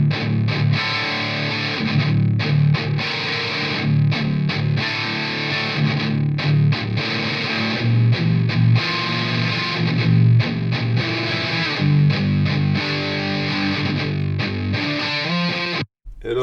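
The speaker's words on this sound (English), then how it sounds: "good old metal tone sounds like this" A heavy metal electric guitar runs through the Neural DSP Archetype Mateus Asato plugin, giving a loud, thick, distorted tone with chugging riffs and sustained chords that play continuously before cutting off abruptly.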